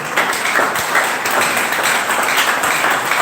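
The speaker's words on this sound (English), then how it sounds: "If you better clap your hand well." An audience at a civil society gathering claps in a dense, continuous round of applause that stays loud and even throughout, with no voices standing out.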